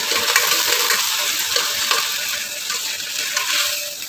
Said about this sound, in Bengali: আমি এই জল সমেতেই মাংসগুলো পুরো ঢেলে দিলাম